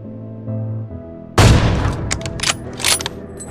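Assault rifle fire in PUBG Mobile, a duo-versus-squad fight at Pochinki: quiet game ambience, then a loud close burst followed by several separate sharp shots.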